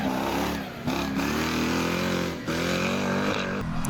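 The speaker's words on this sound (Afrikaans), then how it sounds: "Jy hoor daai motor ver in die bosse." A distant off-road racing vehicle engine, heard out in the bush during a regional off-road race, drones steadily with rising and falling revs and slight dips in level over a few seconds, with no voices present.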